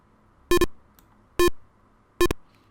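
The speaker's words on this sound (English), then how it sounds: "you can hear that the buzzer starts to buzz a little bit more frantically" An Arduino buzzer triggered by an ultrasonic distance sensor sounds three short electronic beeps spaced under a second apart, each brief burst clear and fairly loud against a quiet background.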